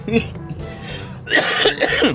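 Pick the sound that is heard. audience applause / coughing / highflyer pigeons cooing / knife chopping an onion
coughing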